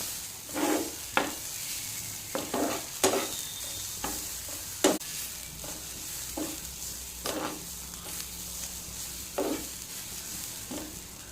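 Grated coconut and masala frying in a pan, with spaced scraping and tapping stir strokes over a quiet background sizzle, close up and unaccompanied by speech.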